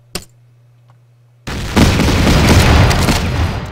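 In the Battle Academy war game, a US infantry unit is destroyed by a sudden loud boom that rolls into a sustained crackling roar after a short, sharp pop and near silence.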